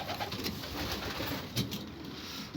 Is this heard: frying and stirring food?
no